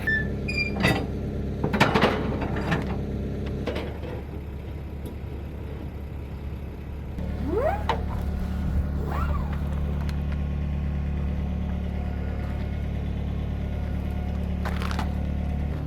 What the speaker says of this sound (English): I think one of my favorite parts of loading and unloading these bins is driving the forklift